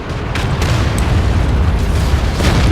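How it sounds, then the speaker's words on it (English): Howitzers fire in World of Tanks, giving loud rumbling booms and bursts over a continuous heavy low-frequency roar, with no talking. "you can hear those howitzers firing off there"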